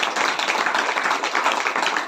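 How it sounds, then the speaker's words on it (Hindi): Congregation at a Saturday church prayer meeting clapping together in praise, a dense, steady patter of many hands that continues evenly throughout without speech. "ताली बजाकर परमेश्वर की"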